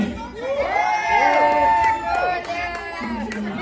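A crowd of fans cheers and shouts at an outdoor Yakut Ysyakh summer festival in Krasnodar Krai, a loud burst of overlapping voices and whoops that swells and fades over a few seconds.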